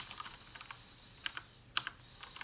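Soft typing on a computer keyboard, a few scattered keystrokes and light clicks at a quiet, close distance over a faint steady background hum.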